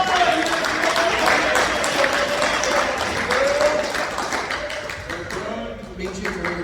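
A church congregation clapping in praise of Jesus during a Tuesday evening service, with continuous, dense hand claps blended with a sustained tonal sound, probably voices or music, that fades slightly toward the end.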